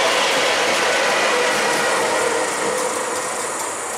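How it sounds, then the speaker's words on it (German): An ICE train hauled by a class 218 diesel locomotive at the front and pushed by a class 185 electric at the rear on the Geislinger Steige incline, a loud continuous rumble and rail roar passing close by throughout. "ein ICE vorne gezogen von einer 218 und hinten nachgeschoben von einer 185."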